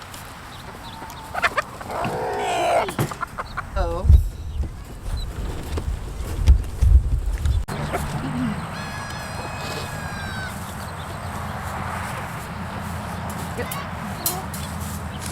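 Chickens cluck and squawk nearby with a rooster crow in the mix, while a person briefly speaks over the flock of pasture-raised hens and buff roosters on a farm.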